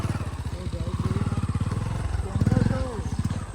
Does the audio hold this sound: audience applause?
no